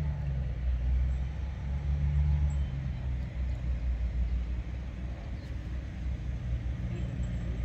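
A farm tractor engine rumbles steadily, a deep continuous low drone that throbs slightly louder at moments, with no voices.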